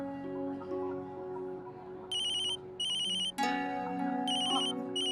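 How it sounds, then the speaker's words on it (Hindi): A telephone rings in repeated electronic bursts, loud and close, with a steady tone running underneath and no one speaking. "टेलर का फोन है"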